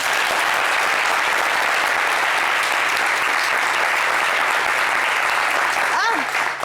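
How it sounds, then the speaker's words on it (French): Audience applause for a model's outfits at a fashion show, a dense steady roar of many hands clapping close and loud throughout, tapering slightly at the very end. "je vais vous demander d'applaudir, en fait, Queen Bee et d'applaudir ses tenues"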